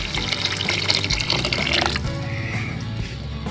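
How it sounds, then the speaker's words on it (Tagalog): Water splashes and pours steadily into a cooking pot for a creamy macaroni chicken pasta soup, a close, continuous gushing stream that thins to a quieter trickle near the end. "So magdagdag tayo ng water guys."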